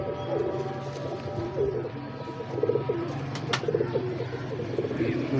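A pedigree female pigeon coos nearby in a quiet home setting, giving a soft series of repeated throaty coos over faint background noise.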